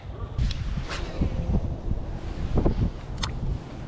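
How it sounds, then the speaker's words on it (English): Wind gusting outdoors on a fishing outing, buffeting the microphone with low rumbling bursts that rise and fall throughout, with a few brief higher hisses over the steady roar. "I think this wind's really working to our favor because it's bringing it this way"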